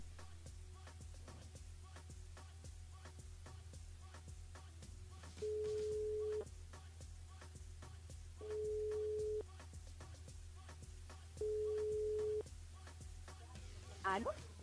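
Phone line tones while a live radio show rings back a game caller: a faint steady tone with regular ticks, broken by three long, louder ring-back beeps, with no talking.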